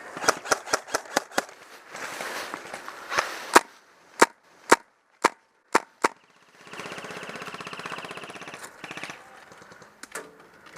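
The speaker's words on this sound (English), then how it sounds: "He's shooting close." Airsoft guns fire at an outdoor attack-and-defend game, a string of sharp, snappy shots, some quite close and loud, with stretches of rattling bursts between them.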